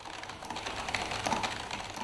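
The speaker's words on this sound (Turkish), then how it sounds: "Dakikada 150 kelime yazıyor." Rapid keystrokes from a world-champion speed typist working a computer keyboard at about 150 words per minute, a dense continuous clatter with no pauses and no voices.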